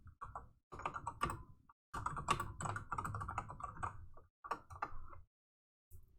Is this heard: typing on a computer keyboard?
yes